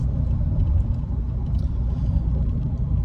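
Lincoln Navigator cruising down the road on lane-keeping assist, a steady low road and engine rumble heard from inside the cabin, continuous and fairly loud with no talking.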